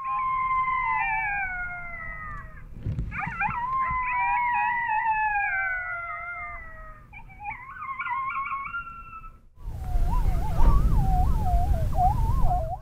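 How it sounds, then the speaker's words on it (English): Coyote pup serenade played through an Alpha Dog electronic predator caller during a Kansas coyote hunt, with long wavering howls and yips in several overlapping voices, ending in a louder, harsher burst of howling. "I'm now playing the pup serenade on the Alpha Dog electronic collar"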